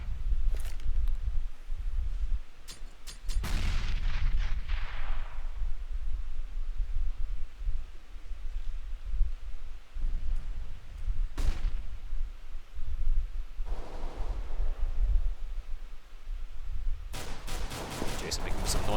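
Gunfire from a Counter-Strike match crackles in a few sharp bursts, the shots spread apart with quieter gaps of ambient game noise between them, at moderate loudness.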